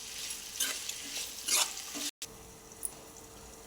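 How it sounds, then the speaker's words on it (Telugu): Chopped onions fry with salt in a pan for egg masala curry, a steady sizzle broken by a few close scraping stirs and one sudden brief cut. "ఎప్పుడైనా ఉల్లిగడ్డ వేసిన తర్వాత మగ్గడానికి కొంచెం మనం సాల్ట్ యాడ్ చేసుకుంటే తొందరగా ఉల్లిగడ్డ మగ్గిపోతుంది."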